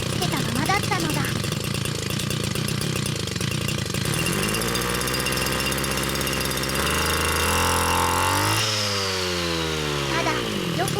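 A brush cutter's small engine revs hard, its pitch sweeping up and down through several high-speed surges, loud and close throughout.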